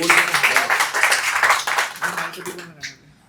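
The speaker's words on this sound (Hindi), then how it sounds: "तो एक और बार जोर से तालियां राणा साहब के लिए" Audience applause rings out at a Sufi qawwali and poetry mehfil, a steady burst of clapping from a small gathering that tapers off near the end, with some voices mixed in.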